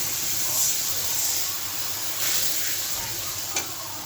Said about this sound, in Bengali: মশলাটা জল দিয়ে গুলিয়ে নিয়েছি, এখন তেলে দিয়ে দিব। হালকা কষিয়ে নেব